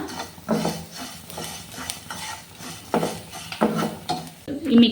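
Yam and coconut being stirred in a pan, a spoon scraping and knocking against the metal in several separate strokes, close and moderately loud, with a faint sizzle underneath.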